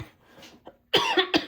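A single close cough, preceded by faint throat noises, bursts out in a few rapid harsh pulses during a quiet craft session with cardstock.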